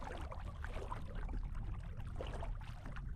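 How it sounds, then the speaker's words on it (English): Ultralight kayak paddled forward on open water, with steady splashing and swishing of the paddle strokes and a low continuous rumble of water and wind close by, no voices. "It's holding to my current position as I paddle forward"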